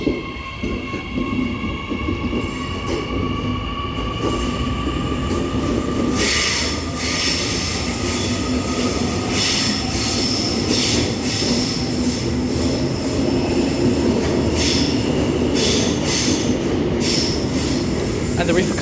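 A D set passenger train departs Cardiff station platform, its wheels squealing and rolling with clickety-clack over a steady rumble, plus faint voices nearby.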